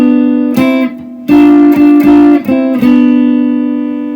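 A short blues guitar fill lick, the kind slipped between chunks of a verse: loud, ringing plucked notes in quick bursts with sustained tones, played alone without voices.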